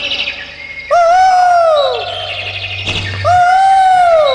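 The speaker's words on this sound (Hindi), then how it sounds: "चिड़िया बोलने लगी।" Loud, close birdsong plays with clear whistled chirps and sweeping tonal calls repeating in two bursts, with a low steady hum underneath, at a religious jagran stage event.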